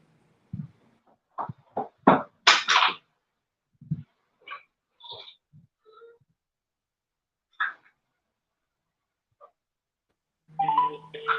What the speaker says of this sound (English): it's just ringing, but she's not picking